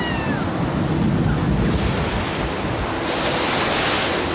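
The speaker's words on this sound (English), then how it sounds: "they're gonna come down in a minute, and it's gonna be a big splash" A steady rush of splashing, churning water as an amusement park water ride boat splashes down, loud and close, swelling slightly toward the end with no voices over it.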